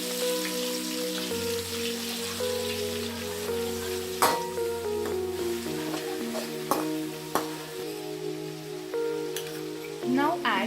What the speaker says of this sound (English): Once the oil is heated, put coriander leaves to it.